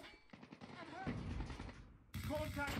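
Hip-fire bursts from a weapon in the mobile shooter Call of Duty Mobile, a quiet rapid rattle of shots in two clusters with a short pause between, overlaid by other game sounds.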